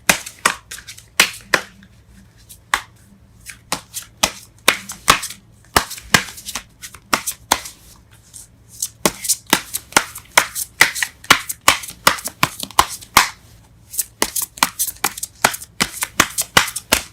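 Tarot cards are shuffled and drawn by hand in a love reading, producing a quick series of crisp slaps and riffles that come in irregular bursts, close and fairly loud, with a faint low hum underneath.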